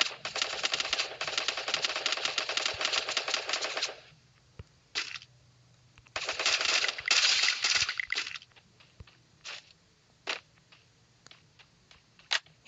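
Video-game gunfire rattles in two long rapid automatic bursts, followed by scattered single shots and short volleys, loud and close.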